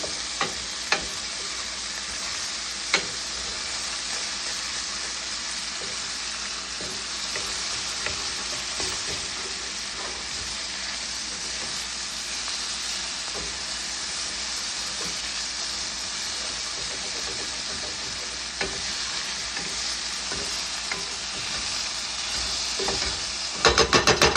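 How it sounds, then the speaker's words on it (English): Sliced food sautéing in olive oil in a pan, a constant loud sizzle with occasional sharp ticks and scraping stirs, running unbroken for the whole stretch without any voices. "That's where the sauteing comes into the plan."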